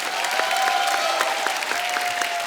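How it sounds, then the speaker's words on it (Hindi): Loud, steady applause from a comedy show audience, a dense wash of clapping with a faint sustained tone running underneath, holding at even strength the whole time. "जोरदार तालियां।"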